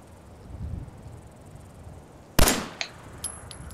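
A single sharp gunshot in Fallout 4 cracks out mid-clip over a steady bed of chirping crickets and insects, followed by a couple of fainter clicks and small impacts.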